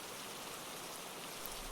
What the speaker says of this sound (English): the rain is pouring down onto the roof of the waiting room on the platform